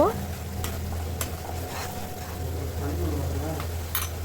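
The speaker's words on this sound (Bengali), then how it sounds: "এখন সবগুলো মশলায় খুব ভালো করে কষিয়ে নিব" Spices with coriander powder and salt being stirred and fried in a pan for an egg, papaya, pointed gourd and potato curry, a steady sizzle with scraping stirs throughout and a low background hum.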